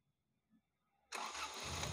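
A Honda car engine started with the starter after ignition work on the distributor, cables, CDI and coil: near silence, then the engine catches abruptly and runs loud and steady.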